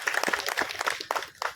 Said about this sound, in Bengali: এনাদের জন্য হাততালি হয়ে যাক